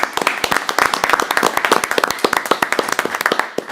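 An audience at a municipal council meeting claps together, a dense run of hand claps that stays steady for several seconds and then thins into scattered claps near the end, with no voices.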